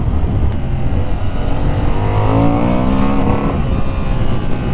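A 2025 Honda Hornet 750 motorcycle engine revving loud and close, pitch climbing under acceleration before the revs are cut back by traction control, with heavy wind rumble.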